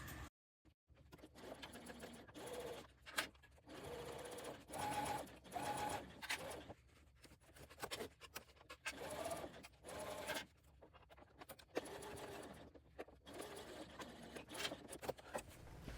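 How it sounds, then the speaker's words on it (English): Sewing machine stitching the second side of a two-tab top zipper seam, with a steady motor whir in repeated bursts broken by brief pauses, close and moderately loud, with no talking. "Back stitch again, flip it around and sew the second side."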